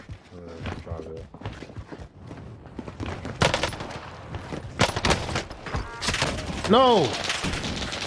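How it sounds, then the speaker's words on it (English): Bursts of rapid fire from dual-wielded MP40 submachine guns in Call of Duty Warzone on Rebirth Island, with several sharp volleys and thuds midway and a player shouting near the end. "He's shooting me through walls?"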